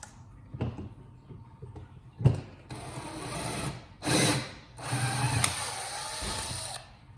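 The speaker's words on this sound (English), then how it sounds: "That drilled through the entire thing." A power drill with a larger bit bores through the plastic housing of a Kirby Ultimate G vacuum cleaner, running in several whirring bursts with clunks and handling noises between them, close up.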